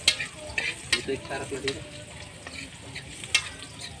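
Tamban fish fry in a pan with a steady sizzle and occasional stirring clicks, close up. A voice speaks briefly over it.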